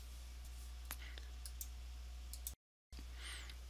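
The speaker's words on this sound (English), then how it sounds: "Keep pressing that keyboard combination until it says 9600 baud" Keys on an Atari computer keyboard pressed in a repeated combination, a few sharp, sparse clicks close by over a quiet hum, with a brief dropout near the end.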